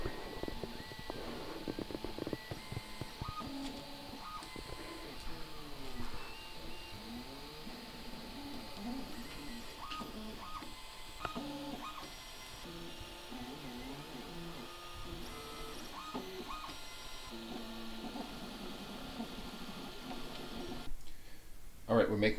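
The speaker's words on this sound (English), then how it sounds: "Now I'm gonna print the toes," An FDM 3D printer printing the toes of a 3D-printed exo-foot, with steady stepper-motor whirring and sweeping tonal moves plus faint clicks running continuously under quiet background sound.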